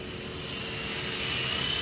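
A Sky Rover Renegade toy RC aircraft flies outdoors, its steady high-pitched motor whine droning and slowly growing louder as it nears, with no speech.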